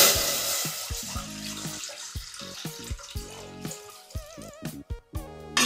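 Water is poured into a steamer set on a lit gas stove in a home kitchen, a close, running splash and trickle that wavers in pitch as the pot fills, ending in a few drips and gurgles.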